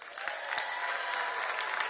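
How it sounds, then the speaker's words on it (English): A crowd at an MLB All-Star FanFest event in Washington applauds an anthem singer, steady and dense clapping with no gaps, fairly close and even throughout. "a wonderful round of applause for our anthem singer"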